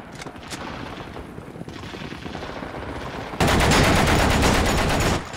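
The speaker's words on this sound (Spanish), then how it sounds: "la policía política emplaza sus ametralladoras" Machine guns set up by political police firing during a mutiny of sailors on the frozen Baltic, heard as dense rapid gunfire throughout, suddenly much louder and heavier toward the end, with no speech.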